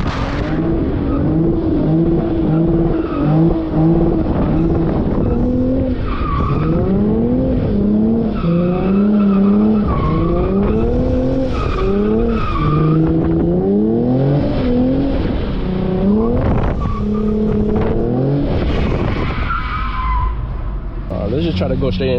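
A Lexus RC 350 drifts on a wet road, its engine revving up and down in repeated rising sweeps, with squealing skids and a voice talking over the loud, close car noise.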